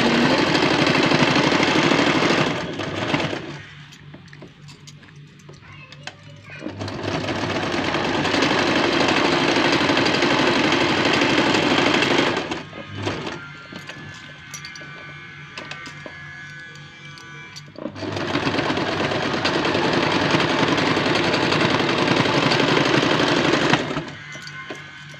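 Electric sewing machine runs in three long loud bursts of steady motor whir and needle rattle, stitching around a handmade fabric bow, with short quieter pauses between runs.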